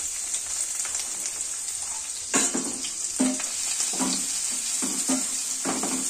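Chopped onion sizzling in hot oil in a pan, a loud, steady hiss broken by several scraping stirs, with no voices.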